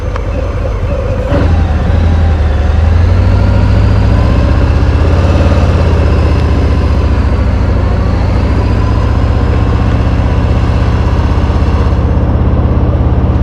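A 2023 Harley-Davidson Fat Bob 114 motorcycle engine runs loud and close with a deep, steady low rumble in slow stop-start traffic, sounding strained, with no talk over it.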